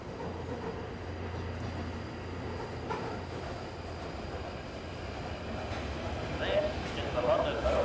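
London Overground train in the video game Fallout London, a steady low rumble of rolling carriages with faint rail clatter and a few brief squeals late on.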